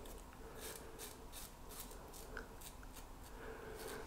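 Rhythmic scratchy strokes of a razor shaving through a lather of shaving soap on a cheek, faint and close, with regular repeated rasping passes.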